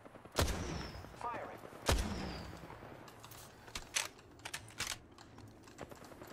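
Gunfire in the Apex Legends video game, two sharp loud shots followed by a string of quieter scattered shots and impacts at varying distance, with keyboard clatter underneath.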